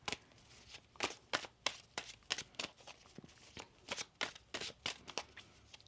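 Tarot cards are shuffled close up in a steady series of about fifteen crisp riffling bursts, quiet and alone with no talking.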